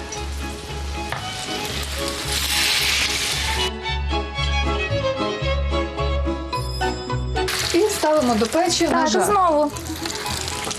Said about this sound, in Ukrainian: Дивіться, як вони гарно шкварчать.